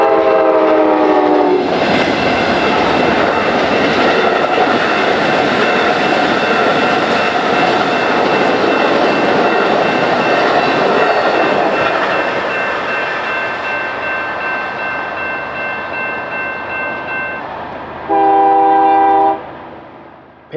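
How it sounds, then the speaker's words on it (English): The westbound Amtrak Lake Shore Limited, led by two P42DC diesel locomotives, roars past loud and close with continuous rumbling and clatter; horn blasts sound at the start and again briefly near the end. "we're treated to a well-timed meet with the westbound Lakeshore Limited behind two P42 DCs."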